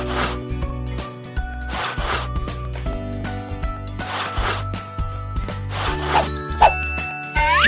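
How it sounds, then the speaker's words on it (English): Cartoonish rubbing and scrubbing effects from a kids' cleanup video game, repeated short bursts of rasping friction over a steady background music loop, with occasional chimes and dings near the end. "And now some serious rubbing."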